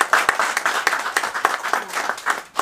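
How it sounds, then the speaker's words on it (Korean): Audience at a lecture hall welcoming a speaker with a short burst of applause, individual claps distinct and uneven, close and moderately loud, no talk over it. "자, 여러분 뜨거운 박수로 한번 보내주십시오."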